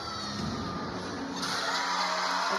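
Arena crowd at a college gymnastics meet between Pittsburgh and NC State, a steady roar of cheering and shouting during a floor routine that swells louder partway through.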